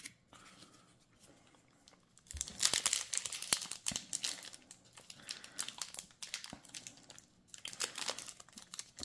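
A Yu-Gi-Oh card pack wrapper from a 25th Anniversary Tin is worked at by hand, making close, quiet crinkling and scraping foil sounds in uneven bursts, with brief tearing-like rustles and no talking.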